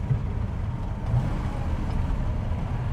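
A 1960s Ferrari V12 in a GT 2+2 drones steadily from inside the car under throttle on a straight, a dense low engine note with no talking.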